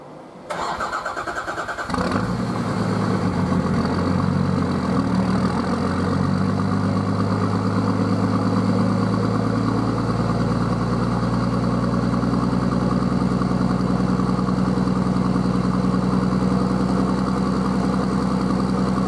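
A Nissan RD28ETI diesel engine cranks briefly, catches and settles into a steady, loud, close idle that runs on evenly with no talk.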